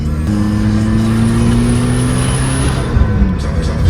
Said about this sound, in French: C'est le turbo qu'on entend là qui crie un peu.